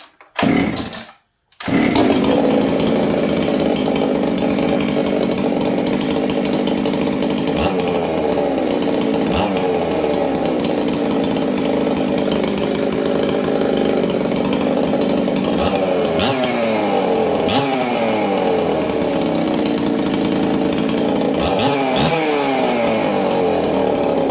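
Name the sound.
chainsaw starting and running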